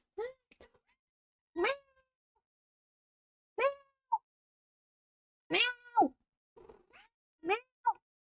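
Several short, clear meows from a cat in the Stardew Valley farming game come one after another with pauses between, crisp and close against silence.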